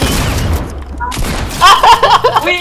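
Gunfire in Fortnite, bursts of shots crackling over game noise and a loud, excited voice talking throughout.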